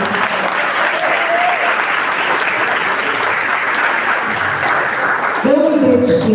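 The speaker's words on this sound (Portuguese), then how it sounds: "Você pode aplaudir esse nome?" Sustained applause from a church seminar audience, steady and dense throughout, with a voice rising over the clapping near the end.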